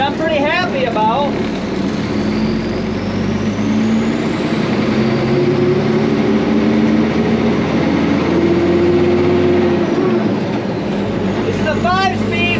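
An old military 5-ton truck with a 5-speed gearbox rolls along in 4th gear at about 12 mph, its engine droning loud and steady from close by the whole time, with a voice talking over it near the start and end.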